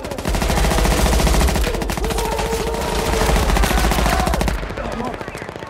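Rapid machine-gun bursts and gunfire crackle loudly through a film scene of an armed raid on a house, dense continuous firing that thins out toward the end.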